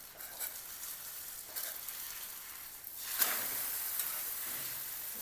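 A flipped egg omelette with onion and coriander fries in a pan, giving a soft, steady sizzle close by that swells a little louder partway through, with no talking.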